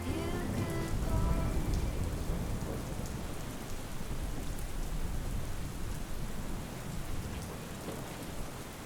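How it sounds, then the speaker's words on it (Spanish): Heavy rain pours down during a sudden thunderstorm, a loud, steady, close hiss of drops hitting surfaces that lasts throughout, with faint music fading out in the first seconds. "se ha puesto a llover, menuda tormenta, se ha liado en un momento"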